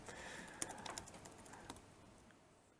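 Quiet typing on an English-layout computer keyboard, a quick run of light key clicks that thins out and fades toward the end.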